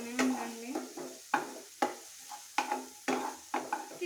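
Pasta frying in a pan as a spoon stirs it, with repeated scraping knocks against the pan over a soft sizzle, close and steady in rhythm.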